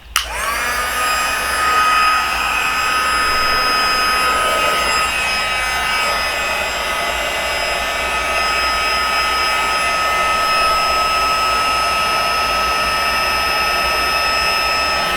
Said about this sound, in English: Now I'm going to turn my heat tool on and let it get warm